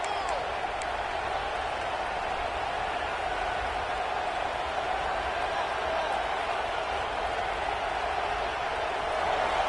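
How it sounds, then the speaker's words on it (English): A packed football stadium crowd at a Penn State game roars continuously, a dense, steady wash of cheering that holds loud and even throughout, with commentary voices faintly mixed in. "The roar of the crowd trying to fuel this defense to keep them pinned in their own end."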